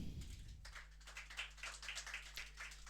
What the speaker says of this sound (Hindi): मारो ताली बाबू एक बार।